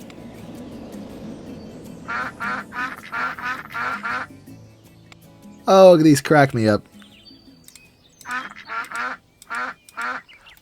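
Cartoonish duck quacks from a spinning ducks ride in RollerCoaster Tycoon, coming in quick rhythmic bursts of several quacks, with a louder cluster midway, while a person talks softly between them.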